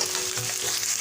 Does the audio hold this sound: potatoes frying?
yes